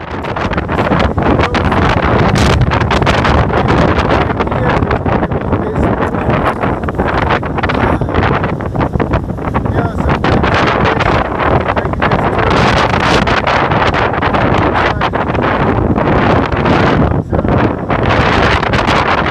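Strong outdoor wind buffets the microphone on a windy day with loud, continuous roaring gusts that never let up and cover everything else.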